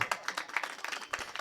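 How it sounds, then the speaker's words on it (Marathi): An audience at a comedic kirtan claps along in a quick, fairly even rhythm, a crowd of hands sounding moderately loud. "झोपा, टाळी वाजवा,"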